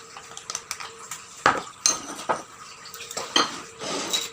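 Churro batter ingredients with cinnamon powder being mixed in a bowl: close, irregular clinks and scrapes of a utensil against the dish, with a few sharper knocks.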